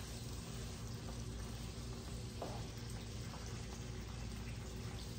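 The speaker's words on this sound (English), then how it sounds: "Here it's sizzling, cooking." Steady, dense sizzling of sausage, onions and peppers frying in a pan, a constant crackling hiss throughout with no pauses.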